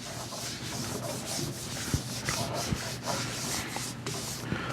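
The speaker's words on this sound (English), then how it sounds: "we're going to apply the Axe abrasive paste" Rag wiping abrasive paste into a wooden bowl on a lathe, a soft continuous rubbing with rhythmic strokes and a few light knocks, close and fairly quiet.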